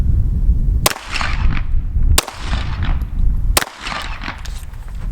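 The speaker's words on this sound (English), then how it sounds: "Let's shoot a few back to back with the Glock 17." Three sharp, loud Glock 17 pistol shots ring out roughly a second and a half apart from the same magazine and ammunition, each cracking over a steady low rumble of background noise.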